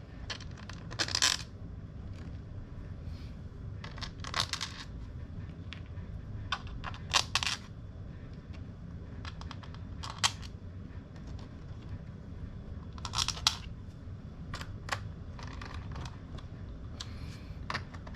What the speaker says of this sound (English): then we're going to go ahead and replace the screws on the back cover.